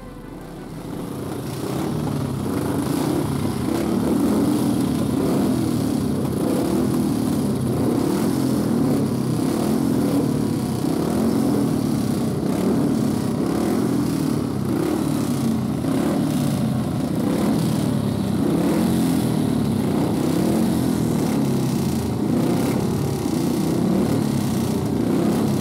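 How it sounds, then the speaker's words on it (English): Vintage speedway motorcycles warm up in a temporary pit area at a speedway celebration, their engines droning continuously and loudly for the whole stretch, with a steady rough mechanical roar and no talk. "a chance to hear the vintage bikes during an hourly bike warm-up from the temporary pit area"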